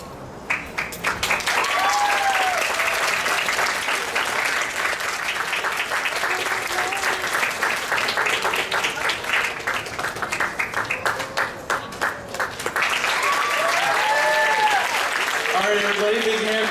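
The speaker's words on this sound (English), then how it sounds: "big hand of applause for Lucy Blackfire" An audience at an anime convention masquerade claps steadily and densely, joined by scattered whoops and cheers that rise near the end before the applause continues.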